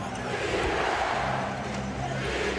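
Basketball arena crowd chanting defense at Staples Center during the 2001 NBA Finals between the Lakers and 76ers, a loud, sustained, rhythmic roar filling the space.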